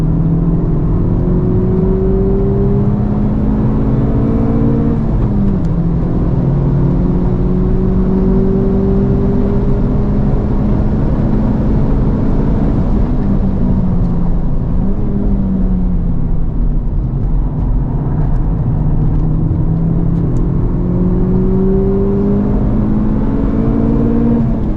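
A steady, loud roar of a 2023 Honda Civic Type R at speed on Gingerman Raceway, with tire noise drowning the engine, tones rising and falling as it laps continuously.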